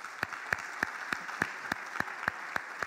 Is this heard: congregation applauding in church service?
yes